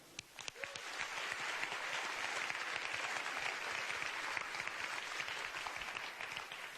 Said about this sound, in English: Let's give a big round of applause to our marvellous dancers from Quatre Parallèles.